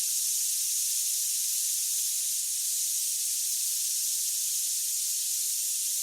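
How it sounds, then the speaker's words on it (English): A spray device hisses continuously for several seconds, a steady, airy, high-pitched jet that stays constant in level from start to finish, with no voices over it. "Now, activate the spray."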